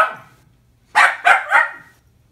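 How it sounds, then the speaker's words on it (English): Dogs chasing each other indoors: a trailing yelp and then three quick loud barks in close succession, near and clear with no talk. "Dogs being terrorists over there in the background"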